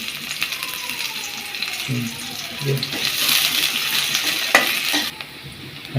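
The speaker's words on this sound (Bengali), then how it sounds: "আমি তেল দিয়ে নিলাম এখন পেঁয়াজ কুচি দিয়ে নিলাম পেঁয়াজগুলো একটু বাইজে নিতে হবে" Chopped onions fry in oil for a fish curry, with sizzling under repeated scrapes and clinks of a spoon stirring against the pan, ending in a sharp metallic tap.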